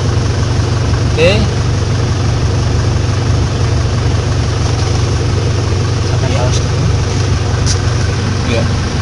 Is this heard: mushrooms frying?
no